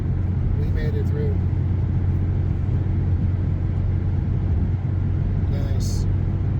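Steady low road rumble and engine drone fill the cabin of a car on the road, loud and constant throughout, with faint brief clicks and rustles on top.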